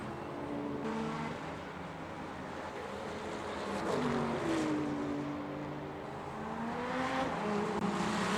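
BMW M4 LMGT3 race car in a racing game at Sebring, its engine droning steadily with rising and falling pitch as it sweeps through corners, with a broad rushing roar throughout.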